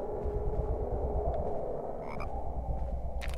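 Frog croaks from the Harry Potter and the Philosopher's Stone PlayStation game sound steadily over a busy low game ambience, with brief higher chirps near the end.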